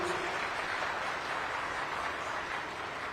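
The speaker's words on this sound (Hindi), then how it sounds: "तो एक बार जोरदार तालियां आप सभी लोग एक बार अपने लिए बजा दीजिए।" Audience applause at a youth Agniveer dialogue event in Dehradun, a steady dense wash of many hands clapping throughout, fairly faint and distant with no clear talk on top.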